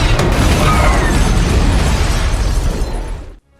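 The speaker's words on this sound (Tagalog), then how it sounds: "biglang dumating si Scott at binaril ito gamit ang grenade launcher" In a zombie film, a grenade launcher fires and its round explodes in a loud, sustained roar with heavy rumbling low end. The blast fills the scene for about three seconds before cutting off abruptly.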